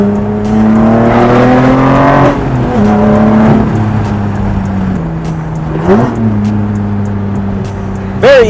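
A Lotus Evora engine revs loudly and steadily on a test drive, climbing and dropping in pitch through quick blips and shifts, a continuous close exhaust drone with no talking.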